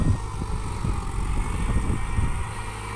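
Tractor engine running on a freshwater prawn farm while pond banks are built up, a steady low rumbling idle with uneven chugging pulses, fairly close and continuous.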